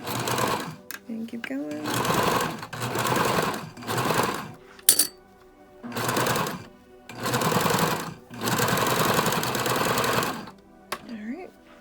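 A sewing machine stitches a thick fabric face mask across its center seam in loud bursts of running stitches, pausing between runs while a person talks briefly near the machine.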